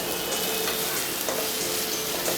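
Vegetables are stirred in a hot pan, giving a steady, close hiss of frying with faint, soft scraping movements throughout.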